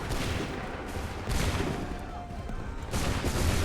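Musket volleys from a line of soldiers in Assassin's Creed III: three loud, crackling bursts of massed gunfire at roughly regular intervals over continuous battlefield din.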